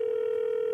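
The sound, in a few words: telephone dial tone, calling the next caller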